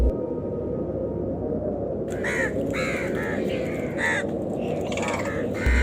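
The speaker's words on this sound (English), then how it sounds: "The crows circle, a few perch close," Crows gather around an eagle feeding in the savanna and caw in a series of harsh calls, some overlapping, starting a couple of seconds in over a steady low rumble.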